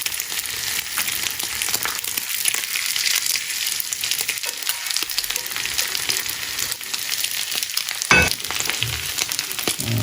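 Milkfish (bangus) sisig hissing on a hot buttered sizzling plate, a loud steady crackling sizzle that fills the whole stretch up close, with one brief sharper clank near the end.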